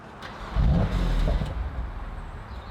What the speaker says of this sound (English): let's chuck it now back into Efficient, as it's called, and see what that sounds like on start